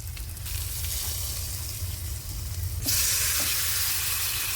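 Masala powder going into a meat curry for ghee rice in a hot pan: a continuous close sizzle and frying hiss with stirring, turning brighter and louder partway through.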